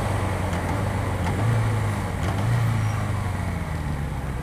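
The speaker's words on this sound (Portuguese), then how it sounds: "Freio motor." A motorcycle engine braking on a road trip toward Patagonia, a steady low droning engine with wind rush throughout, the pitch sagging and swelling slightly as the bike slows, close and continuous with no talk.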